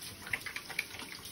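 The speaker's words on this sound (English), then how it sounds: "Turn off the water, shake," Water runs from a tap during handwashing, a soft steady stream with a few faint splashes and drips, quiet and close, with no voices.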